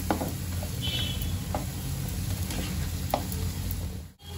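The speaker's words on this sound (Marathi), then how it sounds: "मसाल्यांना तेल सुटसपर्यंत मी चांगलं भाजून घेते।" Spice masala for Khandeshi shev bhaji roasts in oil in a pan, a continuous close sizzle with scattered spoon clicks and stirring scrapes, ending in a brief dropout, with no talk.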